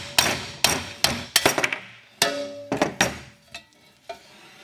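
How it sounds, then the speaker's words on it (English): A hammer taps a metal push rod through a harness-racing sulky wheel hub to knock out the axle, dust cap and old bearing. It gives about a dozen sharp, ringing metallic strikes in an uneven rhythm, close and loud, the last few lighter. "take a hammer, and tap that dust cap with axle and bearing out"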